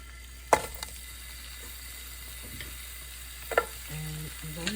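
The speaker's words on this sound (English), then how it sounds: "Now I'm going to add to that 1 onion" Onion added to a pan of hot oil with roasted cumin seed and asafoetida, giving a soft, low sizzle broken by a few sharp clanks and scrapes of a utensil against the pan.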